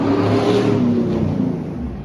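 A car engine revs and accelerates past close by, a steady loud whir that fades slightly as it pulls away.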